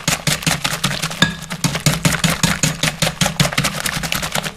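A big whisk beats Yorkshire pudding batter in a bowl, a fast, steady run of close, sharp rattling strokes repeating several times per second with no pauses.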